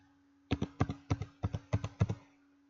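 Computer keyboard typing for a username and password: about a dozen crisp key taps grouped in pairs, close and fairly quiet, over a faint steady hum.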